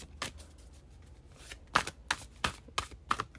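Tarot cards being shuffled in a series of quick riffling bursts, close and crisp, with short pauses between them and no talking.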